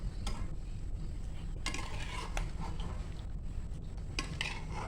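Fried dried coconut pieces being stirred into thin poha chivda in a pan, with scraping and clattering stir strokes over a steady low background hum, close by and moderately loud.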